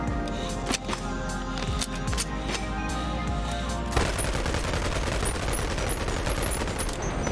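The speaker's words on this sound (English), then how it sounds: "And we have a little SMG." SMG fire in the VR game Boneworks, quick rattling bursts of gunfire with sharp individual shots, then a dense continuous rapid-fire stretch, loud and close.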